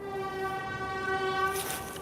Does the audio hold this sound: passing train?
yes